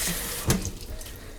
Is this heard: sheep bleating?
no